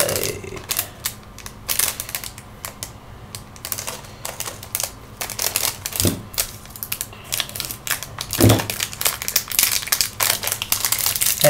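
A plastic package of screws for a QNAP TS-253 Pro being torn open, heard as dense, close crinkling and crackling of plastic with rapid irregular clicks and a couple of duller thumps.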